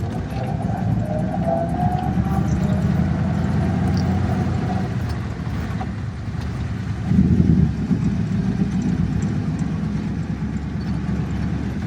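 A 1932 Ford V8 Deluxe Phaeton pulls off in first gear, its engine a steady, fairly loud low drone throughout with a brief surge near the middle and wind or road noise over it.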